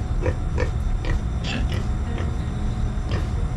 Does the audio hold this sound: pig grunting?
yes